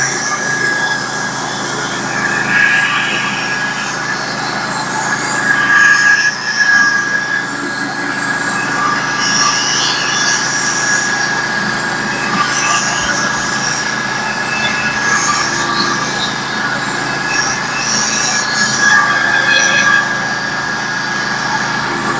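A sawmill cuts through a dirty 10/4 spruce log in a long, steady pass, giving a loud continuous mechanical roar with a thin, sustained high whine that runs without a break.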